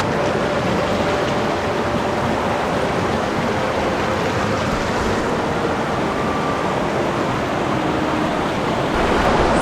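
Steady rushing water of a creek in Crazy Woman Canyon, a dense continuous wash with no pauses, close and fairly loud, with no voices over it.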